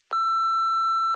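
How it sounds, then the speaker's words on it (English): Answering machine beep, a single clean electronic tone lasting about one second, loud and steady with sharp onset and cutoff, alone in silence. "Please leave a message at the beep."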